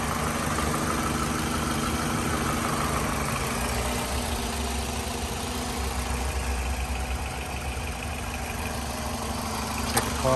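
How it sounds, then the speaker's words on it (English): A 2003 Toyota RAV4 AWD engine idles steadily with a low, even hum and a faint rhythmic ticking, heard up close under the open hood with no talking. "Take a pause here to listen to the engine for about 20 seconds."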